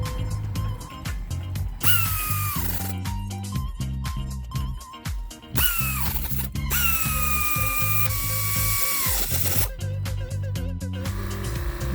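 A power tool tightens lug nuts on a Dodge Challenger wheel, loud whirring runs with rising and falling pitch broken by short ratcheting, hammering bursts, repeated several times close up with brief pauses between nuts.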